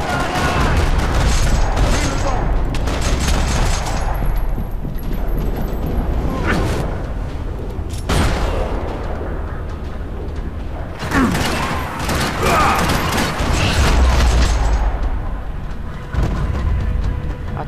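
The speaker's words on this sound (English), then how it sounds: "Another parking lot rattling with gunfire." Dense, sustained gunfire fills a parking-lot firefight in the video game Max Payne 3, with overlapping bursts and booms rolling continuously and loud throughout.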